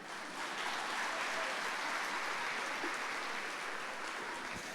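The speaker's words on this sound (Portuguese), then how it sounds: "Mais palmas, gente, que eu vou tomar água" An audience at a church talk applauds, sustained even clapping that holds steady for several seconds, slightly distant and without any spoken voice.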